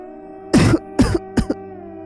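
Three short throaty coughs or throat-clearing bursts from someone who has just swallowed and inhaled water, heard close and alone with brief pauses between them.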